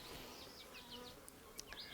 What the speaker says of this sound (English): I have to keep this away so that I can avoid these bees